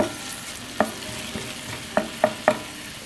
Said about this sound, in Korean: 약불에서 마늘과 양파가 부드러워질 때까지 볶으세요.